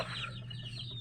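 Backyard hens with seven chicks clucking and peeping softly in a steady, faint murmur with no voices over it.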